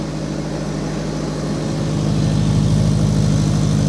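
A project car engine idling with a mint exhaust system fitted, a steady low droning rumble with a faint rhythmic pulse, close and loud, swelling slightly partway through, with no talking.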